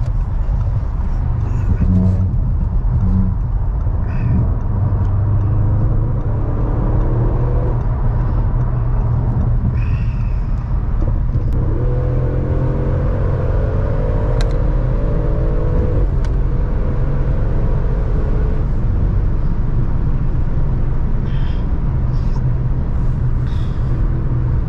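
A Ford Fiesta ST, brand new and carrying five people, drives along with steady road rumble and engine drone, rising pitch harmonics as it accelerates through gears, under ongoing talk inside the car.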